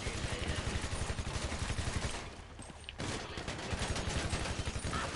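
Chain gun fire in the GTA Online video game, a rapid continuous stream of shots that runs loud for about two seconds, briefly drops away, then resumes as sustained rattling fire.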